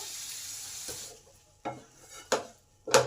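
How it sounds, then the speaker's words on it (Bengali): Spices and a grated tomato fried in a pan for an egg and onion dish, with three or four sharp scraping stirs over a faint steady sizzle, alone with no talk. "এবারে মশলাগুলোকে ভালো করে কষে নেবো"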